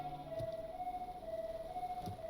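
Soft, steady siren tone of an antique fire truck in the Stormworks video game, holding an even, gentle pitch, with a couple of faint thumps.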